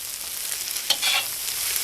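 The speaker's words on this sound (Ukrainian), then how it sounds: "гарно перемішую" Frying cabbage hisses in a cauldron over medium heat as a utensil scrapes through it once, stirring, with the sizzle continuing afterward.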